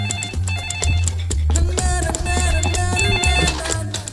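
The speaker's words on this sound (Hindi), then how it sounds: "फोन कहां से बजा रहे?" A telephone rings repeatedly with a steady electronic ringing pattern at moderate loudness, laid over background music in a comedy film scene.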